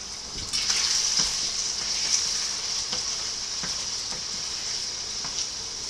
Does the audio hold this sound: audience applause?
no